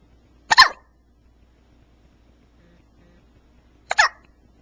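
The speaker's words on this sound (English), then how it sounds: "She's the worst case of hiccups I've ever heard from her" Two sharp, short baby hiccups about three and a half seconds apart, close and distinct against near silence.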